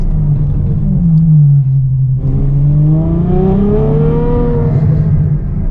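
A Ferrari F12's V12 engine idles low, then revs and climbs in pitch as the car accelerates, a loud, close, smooth rising howl with no speech.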